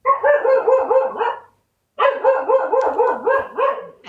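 A dog barks in rapid, repeated runs close by, a steady volley of loud barks, a brief pause, then another long string of barks.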